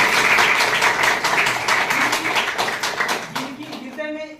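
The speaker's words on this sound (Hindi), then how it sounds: "आप सबों के बीच में हम सब एक साथ ताली जरूर बजाएंगे" Audience at a temple trust umbrella-distribution gathering claps hands together in a loud, sustained burst of applause that thins out toward the end, with some voices mixed in.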